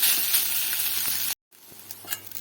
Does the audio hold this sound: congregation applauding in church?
no